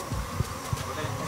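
A low insect buzz hums steadily, close by, with faint voices murmuring underneath for a brief moment.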